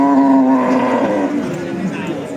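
Pregnant cow at a livestock market mooing in a long, loud, drawn-out low call up close, fading slightly toward the end.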